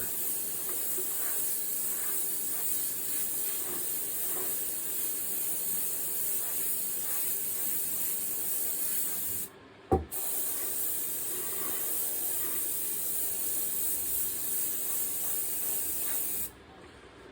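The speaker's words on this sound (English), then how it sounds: "this is spraying too much paint in the studio" Steady airbrush spray hissing continuously while painting flames, briefly cutting out near the middle with a soft knock, then resuming before stopping near the end.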